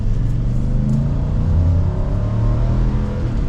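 A 2024 Nissan Titan PRO-4X 4x4 pickup's engine pulls steadily as the truck regains speed, a loud continuous low drone with rising harmonics heard from inside the cab.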